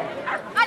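A dog at an agility competition gives a quick pair of short barks or yips, close and fairly loud, over the bustle of the event.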